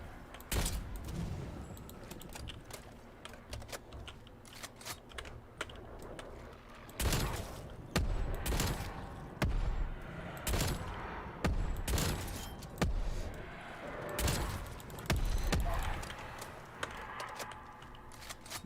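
Gunfire from a weapon in Black Ops Cold War, repeated bursts of shots in irregular clusters across the stretch, moderately loud against quieter game background.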